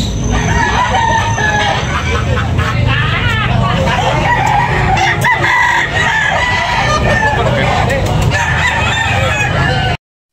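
Roosters crow repeatedly and loudly amid constant clucking of a crowd of fowl at a poultry market in Tabunok, Talisay, Cebu, with traffic-like background noise underneath.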